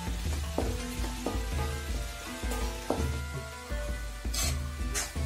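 Banana flower cutlet mixture sizzles in a hot pan while a spoon stirs it. Loud steady frying runs under repeated scraping and knocking strokes against the pan, spaced every second or so.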